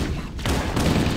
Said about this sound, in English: Oh, I shot the Marine.